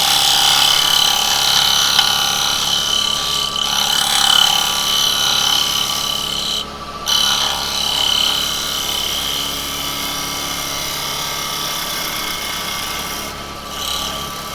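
Thin wooden workpiece being cut with a woodturning gouge on a spinning lathe, giving a steady close scraping, rasping hiss with brief pauses and a few changes in tone as the tool rolls through the cut.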